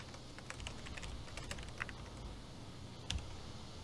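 Keys clack on a computer keyboard in quick, irregular bursts, with sharper strikes standing out over a low steady room hum; no one speaks.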